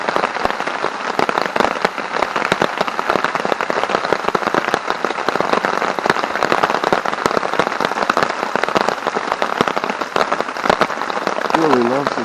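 Steady rain pattering on a tent porch in the woods, a dense continuous patter of drops that stays even and close throughout.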